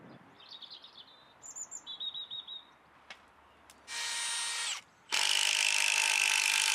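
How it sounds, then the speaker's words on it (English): Birds chirp lightly in the open before a drill drives 150mm concrete screws into timber fence rails outdoors, two loud sustained whirring bursts, the second running longer. "And then drive in some long 150mm concrete screws"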